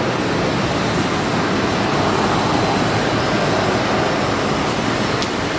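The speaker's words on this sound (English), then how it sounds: "994 powering up their single engine. Has to be running on a single engine." An airliner at LaGuardia Airport powers up on a single engine to taxi out in a heavy rainstorm, a steady loud broadband roar holding constant throughout with no talk.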